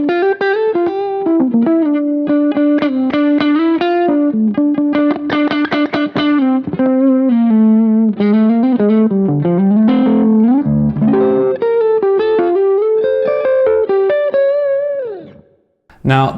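Aristides 060R guitar on its neck pickup through a Kemper AC20 jazzy tone plays a continuous melodic run of warm, full, ringing notes and chords, loud and alone, fading out at the end.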